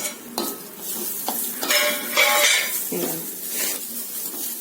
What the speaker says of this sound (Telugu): ఈ శనగపప్పు కొబ్బరితో పాటు తిరగమాతలో వేగితే మనకి కూర అయిపోయినట్టే లెక్క అనమాట